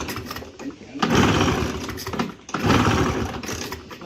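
A Bajaj Classic scooter engine being cold started after sitting four years sputters in two rough, loud bursts that rise and fall unevenly, each with a brief pause between attempts.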